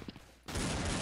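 Shotgun blast in the video game Blood Strike, a sudden loud broadband burst after a quiet moment that holds as a sustained roar to the end.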